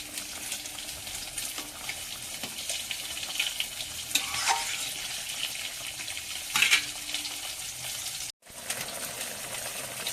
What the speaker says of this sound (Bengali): মাছের ঝোলটা ফুটে উঠেছে, বেগুন আর আলু, এবার মাছগুলো দিয়ে দেবো।